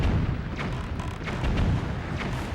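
Cannon fire in The Legend of Zelda: The Wind Waker, from cannons mounted on rock formations at sea: a steady low rumbling barrage with repeated muffled booms, dense and continuous throughout.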